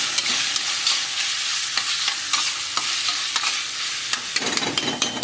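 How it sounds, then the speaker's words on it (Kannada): Tomato and spices frying hard in hot oil in a pan, a dense steady sizzle broken by repeated scraping stirs, loud and close throughout with no voices. "ಚೆನ್ನಾಗಿ ಫ್ರೈ ಆಗಲಿ"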